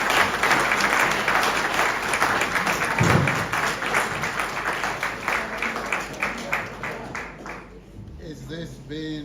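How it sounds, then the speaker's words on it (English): Applause at a memorial service, a crowd clapping steadily for several seconds and then thinning out as a speaker begins talking. "Is it possible to give Valerie a round of applause?"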